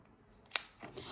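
Scissors snip fabric for a small dog bow tie, one crisp close cut followed by a softer second snip, faint and brief in a quiet room.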